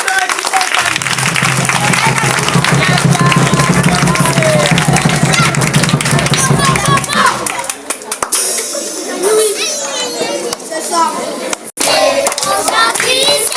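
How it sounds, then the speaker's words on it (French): Audience of parents and children applauding at a school end-of-year party, dense close clapping for several seconds that thins out into scattered claps amid children's chatter and crowd noise. "On applaudit"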